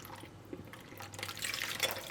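Water, three-quarters of a cup at room temperature, being poured for mixing with vegetable oil in a Korean corn dog batter, a soft close trickle and splash building toward the end.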